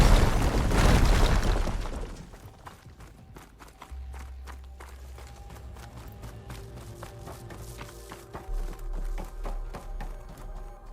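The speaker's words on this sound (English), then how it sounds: "An explosion coming up." An in-game explosion in Horizon Forbidden West bursts loudly and close at the start, then fades into quieter game ambience with scattered taps and clicks and a low rumble.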